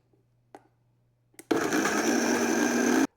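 Chipotle and red wine vinegar paste for Peruvian anticucho is mixed with a steady, loud mechanical whir that starts abruptly after a couple of small knocks and runs close and unbroken to the end.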